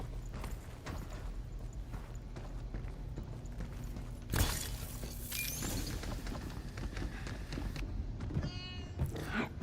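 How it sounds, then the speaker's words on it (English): A cat meows in the video game Pragmata amid a busy game soundscape with clattering, mechanical noises and a sharp crash partway through, the meows faint and mixed into the background. "Kitty cat!"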